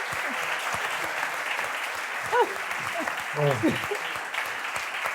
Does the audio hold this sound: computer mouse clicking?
no